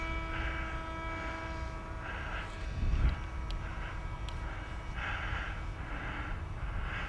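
An AtomRC Dolphin Pro RC plane flying at under half throttle, its electric motor a soft, steady propeller drone with a tonal whine at a distance, alongside wind buffeting and a brief thump near the middle.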